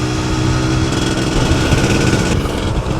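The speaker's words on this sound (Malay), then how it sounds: "motor ni dalam keadaan baik. Jalan pun sedap." A running motorcycle engine, a loud, close, steady buzzing drone with a slight shift in tone partway through and no talking.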